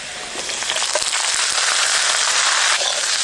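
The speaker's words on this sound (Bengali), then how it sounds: "এবার দিয়ে দিচ্ছি কেটে রাখা বেগুন" Cut eggplant hits a pan of frying potatoes and onion and a loud, dense sizzle rises fast, a steady crackling hiss broken by a few sharp spatters.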